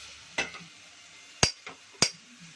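A spoon scrapes through a pressure-cooker carrot and drumstick curry as the masala is mixed in: three sharp, short scrapes or clinks spaced out over quiet, with faint softer brushes between them.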